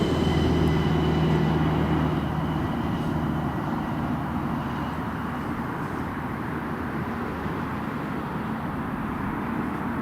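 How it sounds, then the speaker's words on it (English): A US Air Force Boeing C-17 Globemaster flying near an airport, a broad, steady low jet roar with a faint tonal whine that eases slightly in loudness over time, with no voices. "There it is. One of the US Air Force Boeing C-17 Globemasters"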